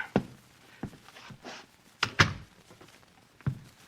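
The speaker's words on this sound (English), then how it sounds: "Close the door." A door closes with a soft thunk in an old-time radio mystery drama, one of several scattered knocks and shuffling bumps heard close up in an otherwise quiet room.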